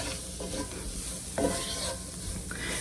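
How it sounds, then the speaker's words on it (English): Flour being stirred into sautéed onions in a pan, a soft continuous sizzle under scraping spoon strokes with a few sharper clicks, close and moderately loud. "We're gonna stir that around for about a minute to cook out any raw flour"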